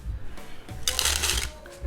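Jerry's Nugget playing cards with a stiff, thick finish riffle-shuffled up close, a quick dense burst of flapping card snaps building in the middle before a soft settle, with no talking.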